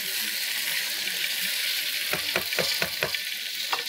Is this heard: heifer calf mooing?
no